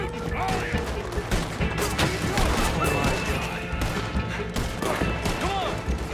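Gunfire crackles through a bank shootout in Red Dead Redemption 2, a steady run of close shots and crashes under shouted game dialogue.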